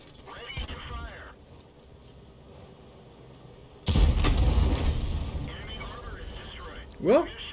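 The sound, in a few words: tank guns firing in a video game battle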